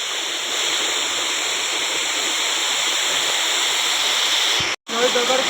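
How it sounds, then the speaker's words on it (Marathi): A village waterfall at a dam in the Konkan countryside pours with red-tinged water rushing down a 25–30 foot drop, a loud, steady roar that cuts out briefly near the end, with no speech heard. "सगळा पाणी, लाल पाणी वाहतला खाली."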